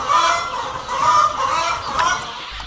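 Laying hens on a poultry farm cluck and call in a loud, continuous chorus, overlapping drawn-out vocalizations close by.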